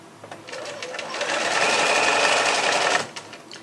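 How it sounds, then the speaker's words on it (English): A sewing machine stitches fabric with the needle in the down position, humming loud and steady for about two seconds after a short start, then stopping abruptly, with a few soft clicks before and after. "Now we're stitching it with our needle in the down position"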